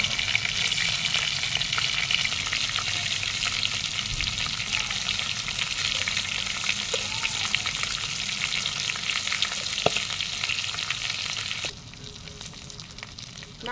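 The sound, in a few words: chicken meat frying and being stirred in a pan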